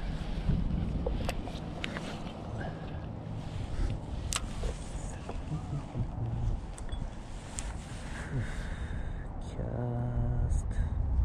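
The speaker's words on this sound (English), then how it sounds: "The wind is super annoying for this type of setup." Wind buffets a fishing boat during finesse bass fishing with a dropshot rig, a steady roaring gust noise across the microphone with water and hull sounds beneath it.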